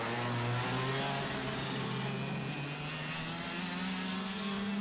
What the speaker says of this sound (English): Hear the engines chattering